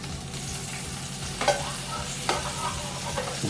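A beef fillet roast sizzling as it cooks in a pan, a steady close hiss and crackle with a couple of sharper spits, no talk.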